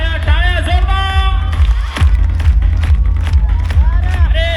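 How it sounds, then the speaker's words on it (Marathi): Children at a residential ashram school clap and cheer for a magician, with steady rhythmic clapping under excited shouting and nearby voices. "टाळ्या टाळ्या जोरदार."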